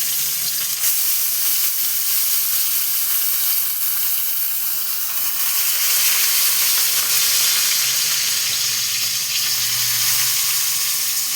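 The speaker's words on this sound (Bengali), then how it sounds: "ওই একই তেলে আমি বাকিগুলো দিয়ে দিচ্ছি।" Cauliflower paturi parcels fry in hot oil, a loud, continuous hissing sizzle that stays steady from start to finish, close up and without any voices.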